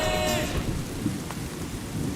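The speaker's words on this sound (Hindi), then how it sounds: "बारिश।" Steady rain pours down with a roll of thunder rumbling underneath, loud and continuous, with a brief burst of tonal noise at the start.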